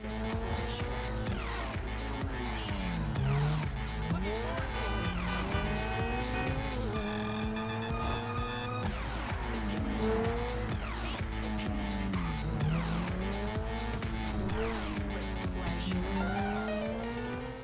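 A racing car engine in GTA V roars continuously, its pitch rising and falling with gear shifts, loud and close throughout with no pauses.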